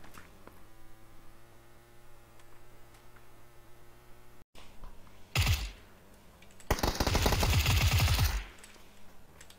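Gunfire in a shooter video game: after a steady electrical hum, two loud bursts of rapid shots ring out, a short one then a longer sustained volley, close and harsh, no talking.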